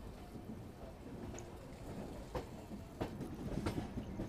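The Delhi–Bhopal Shatabdi Express runs along the tracks with a steady low rumble and a few sharp clacks of the wheels over rail joints, heard continuously and fairly close, with no talk.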